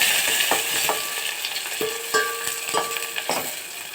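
Onions and curry leaves sputter in hot oil for a drumstick curry, a bright continuous sizzle close by, punctuated by a string of clicking, scraping spoon strokes against the pan.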